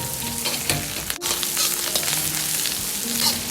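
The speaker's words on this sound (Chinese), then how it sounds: "接着放入控干水分的木耳，翻炒均匀。" Wood ear mushrooms stir-fried in a hot wok, sizzling steadily with repeated scraping and tossing clatters of the spatula, close and fairly loud with no voices.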